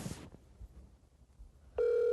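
A telephone on speakerphone starts ringing near the end, giving a loud, steady electronic tone after a quiet, hissy moment, with no one talking.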